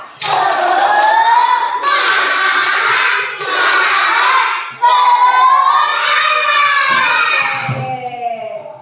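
Children in a classroom chant tepuk semangat aloud with hand claps, several loud chanted phrases in rhythmic bursts with short breaks, close and energetic, fading slightly at the end.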